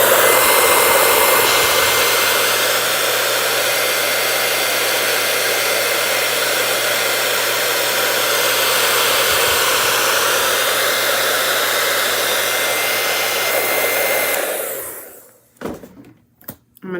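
A hair dryer blows steadily at close range for about fourteen seconds, drying a freshly painted damask pattern, then cuts off, followed by a few faint clicks and handling knocks.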